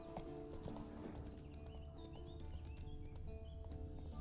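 Roach, Geralt's horse in The Witcher 3, gallops in a steady rhythm of clip-clopping hooves. The footfalls sit close and clear over an ambient game bed with faint birdsong.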